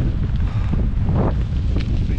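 A strong headwind of about 15 metres per second buffets the microphone outdoors in Spain, a loud, continuous rumbling roar that surges and dips in low gusts throughout.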